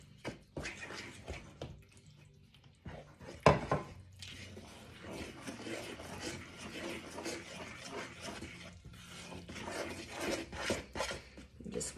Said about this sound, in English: You just want to mix that up with a fork.